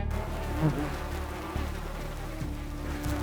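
A steady, close buzzing of many bees from a large underground hive, droning continuously with slight swells in loudness throughout.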